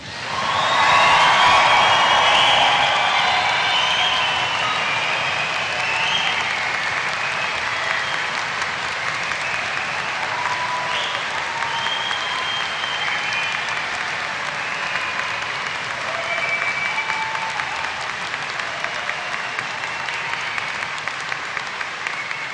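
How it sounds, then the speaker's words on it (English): A graduation audience in Caird Hall bursts into loud applause with whoops and cheers, peaking right away and then settling into long, sustained clapping across the hall. "let's see how much noise you can make to get things going."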